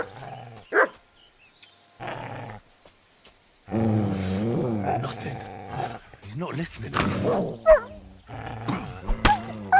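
A dog in the medieval video game Kingdom Come Deliverance II barks and whimpers in uneven bursts, mixed with someone talking over it.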